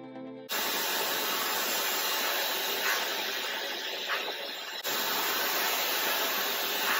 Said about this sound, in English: I'm gonna put a clip where you can hear the sound.